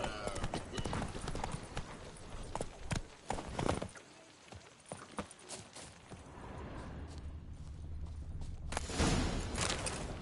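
Hooves clip-clop in a steady trot as a horse moves along in The Witcher 3: Wild Hunt, Blood and Wine, with a few sharper knocks and a faint background bed.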